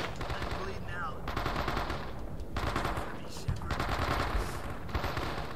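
Sustained M60 machine gun suppressing fire in the video game Men of Valor, loud, dense rapid bursts with brief pauses, layered with other battlefield gunfire throughout.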